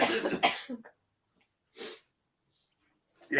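A loud cough up close, followed by a second shorter cough and another starting at the end, with silence in between.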